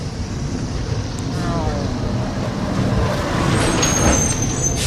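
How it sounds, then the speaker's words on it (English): Garbage truck rolling past on a residential street on trash day, a broad engine rumble that slowly swells as it nears, with a faint hiss of brakes toward the end. "it's trash day, so there's trash trucks all around"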